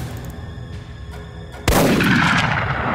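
A single sharp, loud gunshot cracks out after a quiet stretch, followed by a long reverberating tail.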